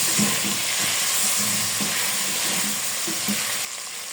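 Cherry potatoes with green chilli, garlic powder, black pepper and salt sauté in a pan, a loud, dense frying hiss with soft stirring scrapes that drops slightly in level near the end.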